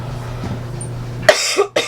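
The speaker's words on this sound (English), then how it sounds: "Sorry about the cough." A person coughs twice in quick succession, close and fairly loud, in an otherwise quiet room during a watercolor painting session.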